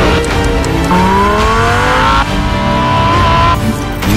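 A Lamborghini Huracán Performante with a V10 engine and four-wheel drive, on a record lap of the Nürburgring, loud and close, its engine note climbing through gears with rising whine and brief shifts, tire noise underneath.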